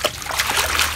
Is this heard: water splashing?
yes